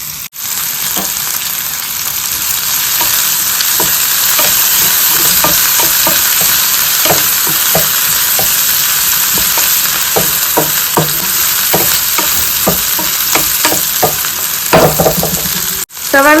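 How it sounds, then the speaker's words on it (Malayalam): Chopped onions and chili flakes sizzle and fry steadily in a hot pan while a utensil stirs and scrapes them in frequent taps, a close, continuous crackle with no talking. "അതിനുശേഷം നമുക്ക് സവാള ഇതിലേക്ക് ഇടാം."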